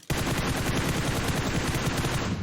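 Rapid automatic gunfire in a PUBG-style video game, a sudden loud burst of dense, continuous shots rattling on for over two seconds, with no voices.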